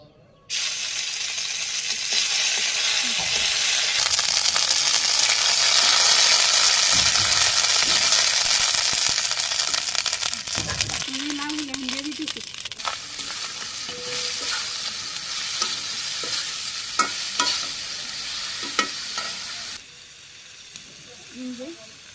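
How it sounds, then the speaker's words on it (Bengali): Dried red chilies and cumin seeds, then ginger, spitting in hot oil in a village kitchen, a loud steady sizzle with stirring scrapes and a few clinks, fading slightly toward the end. "শুকনো লঙ্কা আর জিরে ফোড়ন দিয়ে দিলাম"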